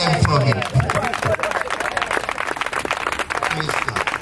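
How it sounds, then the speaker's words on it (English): Guests at Nadine and Chris's wedding applaud the couple, steady clapping mixed with crowd murmur and a few raised voices close by. "Clap them for me."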